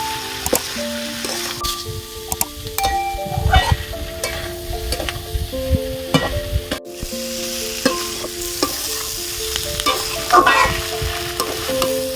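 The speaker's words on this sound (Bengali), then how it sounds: "এবার একটু ভেজে নেবো" Onion greens, with turmeric and salt, fry in a pan with a constant close sizzle, broken by scraping and clattering of a spatula stirring the pieces throughout.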